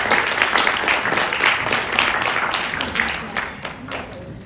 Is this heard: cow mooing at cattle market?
no